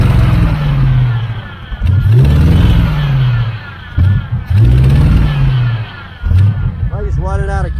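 A 1980 Camaro Z28 with new headers revs in repeated swells, the engine rising and falling several times nearby under a voice, then settling into a rough, uneven idle.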